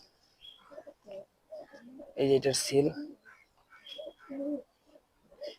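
Pigeons coo softly in short, low repeated phrases nearby while someone talks over them.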